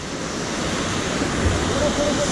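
A steady, loud roar of rushing water fills the clip, a waterfall's constant wash at Bethanchok, Nepal, with no pauses.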